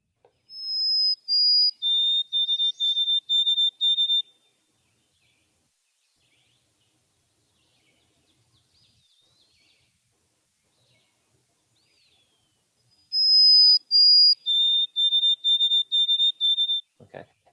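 A wild bird sings its whistled 'Oh Canada, Canada' song twice, each phrase a couple of clear, pure opening notes followed by a quick run of repeated notes, separated by a long quiet gap.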